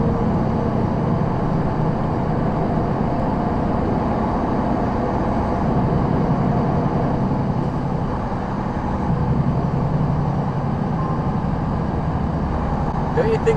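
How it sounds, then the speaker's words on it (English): Trucks labor up and down a hill beside a tunnel, their engines making a steady, moderate rumble of traffic that continues without a break. "listening to all the trucks laboring up and down"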